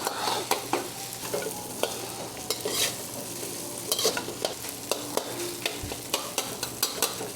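Steady sizzling of minced garlic and butter frying in a hot wok, with sharp scraping and clinking of a metal wok spoon stirring repeatedly, no talking.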